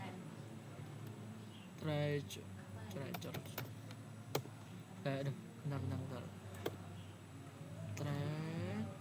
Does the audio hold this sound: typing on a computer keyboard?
yes